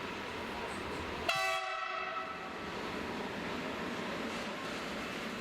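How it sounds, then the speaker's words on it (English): Class 840 diesel multiple unit departing Poprad station in Slovakia on a local passenger service, a sudden loud horn blast with harmonic tones over steady rumbling engine and rail noise that continues throughout. "Another Class 840 DMU leaves Poprad on a local passenger working."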